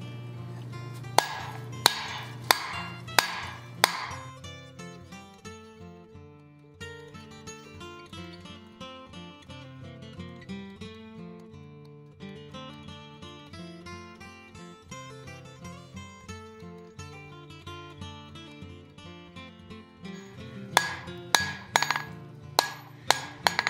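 A blacksmith hammers steel stock on an anvil while forging the reins of a pair of tongs, with a run of quick ringing blows at the start and again near the end, and faint music underneath.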